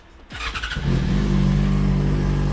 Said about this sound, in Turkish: Şu an egzoz üzerinde iki tane susturucu var ve bu sesi de size dinletmek istiyorum arkadaşlar.